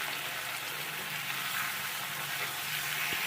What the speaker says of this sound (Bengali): আমরা আলু এবং কাঁচকলাকে আলাদা করে ভাজবো না একসঙ্গে ভেজে এখানেই পুরো রান্নাটা সেরে ফেলবো